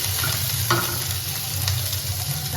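Ginger paste and whole cumin frying in hot oil for a Bengali eggplant fuluri dish: a steady, close, loud sizzle runs throughout, with a few soft stirring scrapes and no talking.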